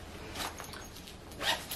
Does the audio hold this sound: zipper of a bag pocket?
yes